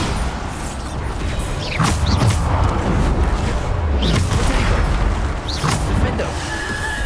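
Magical Bombarder spell blasts in Hogwarts Legacy boom and whoosh repeatedly over a dense layer of game combat noise and music, several bursts spaced a second or two apart.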